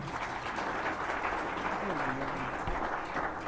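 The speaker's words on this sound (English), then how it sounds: "Please, another round of applause for him." An audience at a Middle Belt political conference in Nigeria claps steadily throughout, a broad crowd applause with faint voices mixed in underneath.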